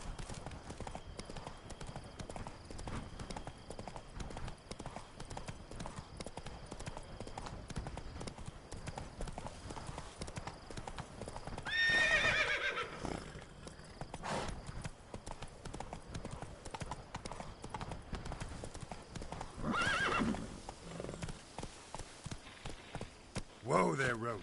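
Roach, a horse in The Witcher 3, galloping with a quick steady clip-clop of hooves, with two brief louder bursts that may be neighs, at moderate level throughout.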